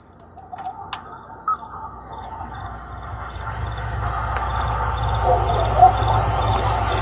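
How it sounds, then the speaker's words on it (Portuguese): Cricket chirping played as a nature sound through a Kia Niro HEV's car audio system, a steady high rhythmic trill over a low hum that grows gradually louder. "Canto dos grilos."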